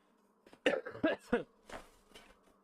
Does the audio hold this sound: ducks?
no